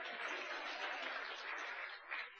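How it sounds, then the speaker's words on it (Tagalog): Brief, faint burst of clapping from a church congregation during an Ilocano-language gospel sermon, steady and even for about two seconds before tapering off. "Palakpak ni Jesus"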